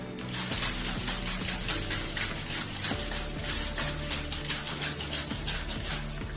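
A steady hissing spray of fine facial mist with rapid pulsing bursts, close and continuous for several seconds.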